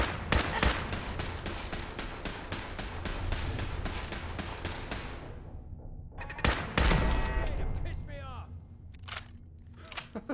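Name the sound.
gunfire from Fallout 4 video game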